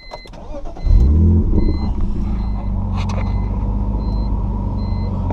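Car engine starts and settles into a steady, close exhaust rumble, with intermittent high chiming warning beeps sounding over the idle.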